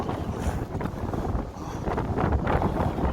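Strong cold wind gusts across a snowy mountain ridge on a winter hike, a loud, steady roar buffeting the microphone with swells throughout and no talking.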